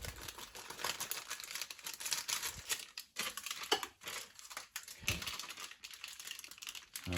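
Scissors snip and plastic crinkles as a cook-in bag of haddock in sauce is cut open, a quiet run of short cuts and rustles close by.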